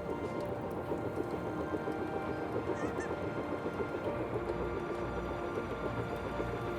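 Ducks quacking in the Terra Nil river valley tutorial level, a continuous, fairly loud chorus of honking calls over a dense, steady ambient bed of water and nature sound.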